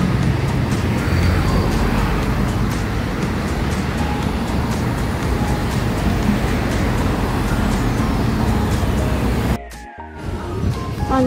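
A truck in a park rumbles loudly and continuously, close by, with heavy low-end road noise for about ten seconds before cutting off suddenly.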